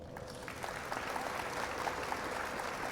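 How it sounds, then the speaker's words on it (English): Crowd applause, likely canned or sampled, claps steadily and fairly loud for about three seconds, a dense continuous patter of many hands with no speech over it. "Round of applause as well."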